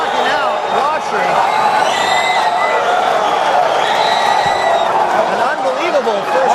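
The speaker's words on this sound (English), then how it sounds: "The normally reserved Ontario Convention Center crowd going wild" A packed arena crowd at the Ontario Convention Center roars nonstop after a first-round fight knockout, a loud, dense wall of cheering and whoops with an excited commentator talking over it.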